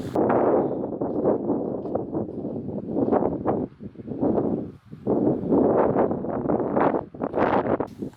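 Strong wind roars across the Niremont mountain summit during a storm, loud buffeting gusts that surge and ease in waves with heavy rumbling microphone noise and brief lulls.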